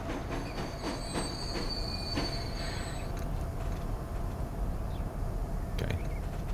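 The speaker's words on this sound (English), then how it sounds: "They're now on the train and the train goes back again." A train in the Transport Fever video game rolls along with steady clattering wheels and high metallic squeals throughout. The rumble stays loud and continuous, with no talk over it.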